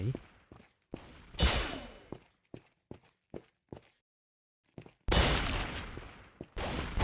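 Gunfire in the Roblox video game, a string of sharp separated shots followed by longer bursts of loud rapid firing, with a short silent gap in the middle.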